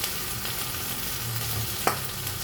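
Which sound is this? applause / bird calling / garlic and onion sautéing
garlic and onion sautéing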